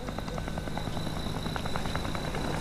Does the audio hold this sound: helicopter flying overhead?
yes